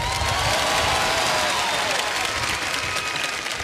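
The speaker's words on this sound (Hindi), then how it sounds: "और इस बात पे तालियां बज जाएं तो अच्छा लगेगा।" Studio audience on the Kaun Banega Crorepati quiz show bursts into loud, full applause with a touch of cheering, sustained and even before easing slightly toward the end.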